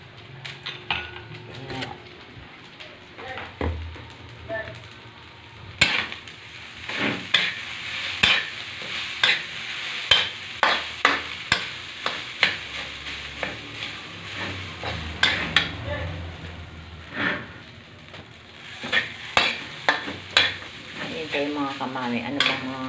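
Fried rice stir-fried in a pan at home, with a steady sizzle beneath repeated scraping and clacking strokes of a utensil against the pan, close and moderately loud, no talking.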